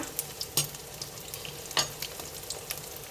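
Hoy tod, a Thai fried oyster omelette, sizzles in a hot pan with a soft continuous crackle and sharp spatula scrapes and taps now and then, close and without talking.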